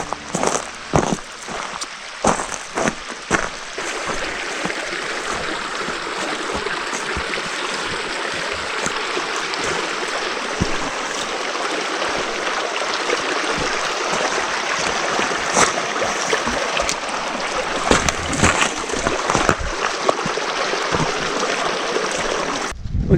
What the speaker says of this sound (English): We have another creek crossing.